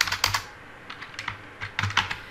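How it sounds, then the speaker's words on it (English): Keys tapped on a computer keyboard while searching for a part in Proteus circuit simulation software, in uneven bursts of several clicks with short pauses, close and crisp. "I typed CAP."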